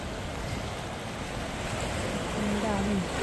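Water washes against the rocky, shell-strewn shore of an island, a steady surf hiss with wind buffeting the microphone, and a voice talks briefly near the end.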